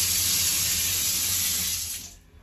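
Tap water pours steadily into a cabin sink aboard the cruise ship Wonder of the Seas, a close, continuous splashing hiss that cuts off near the end, with no talking.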